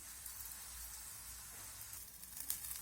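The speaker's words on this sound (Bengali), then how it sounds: "এখন আমি তেল দিয়ে ভেজে নেব" A vegetable paratha fries in refined oil on a pan with a faint, steady sizzle, quiet and close, no voices.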